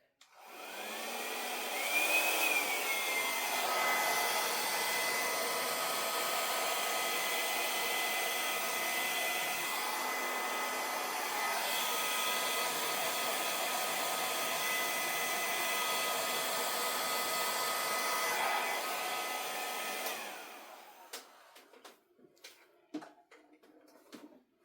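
A hair dryer blows acrylic paint across a canvas for a Dutch pour fluid art piece, a loud steady whooshing air stream running for about twenty seconds before cutting off, followed by a few light handling clicks.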